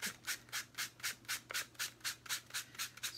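Steady back-and-forth sanding strokes across a painted wooden acorn, roughly a dozen even rasping passes in a regular rhythm, close and clear with no talking.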